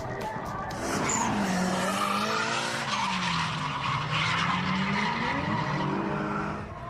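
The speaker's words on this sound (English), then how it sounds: "Nikko Circuit, 2 hours north of Tokyo, is one of the most popular drift tracks in Japan." Drift cars sliding around Nikko Circuit, a Japanese drift track, with loud sustained tire squeal and engine roar that build after the first second and hold steady, wavering in pitch as the cars slide.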